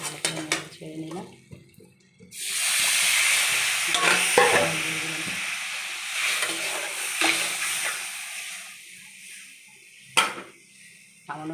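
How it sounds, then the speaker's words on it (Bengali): Mango pieces fry and sizzle in hot oil in a pan while a utensil stirs them, with steady frying hiss and occasional scraping clinks against the pot, close and fairly quiet, no talking. "আমগুলো তেলে দিয়ে দিলাম, দিয়ে ভালো করে নেড়ে ছেড়ে নিলাম।"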